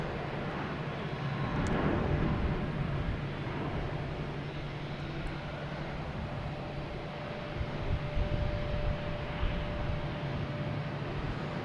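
A Southwest airliner lands at Boston Logan Airport, a broad, steady jet rumble and rushing roar heard from a distance, swelling slightly and holding under open outdoor ambience.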